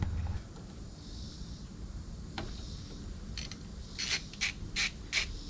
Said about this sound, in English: I'm gonna use a socket, and then you just take this one off, and then take this one out second